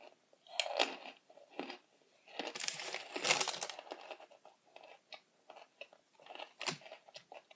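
Freeze-dried strawberry, vanilla and chocolate astronaut food crunched up close, with crisp bites and steady chewing, softer crackles, and a louder burst of crunching in the middle.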